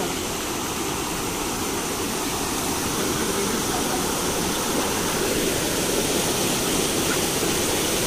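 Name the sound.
waterfall at Shirwande village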